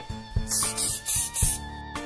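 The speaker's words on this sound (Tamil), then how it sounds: "என்ன ஸ்ப்ரே பெயிண்ட் அடிச்சிட்டு இருக்காரு, அதுவும் கூல் ட்ரிங்க்ஸ் பாட்டில வச்சு." Spray paint is sprayed from a sprayer made from a soft drink bottle, giving four or five sharp, close hissing bursts in quick succession over steady background music.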